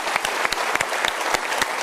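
A seminar audience gives a short round of applause, dense clapping with a few sharp, close individual claps standing out over the continuous patter.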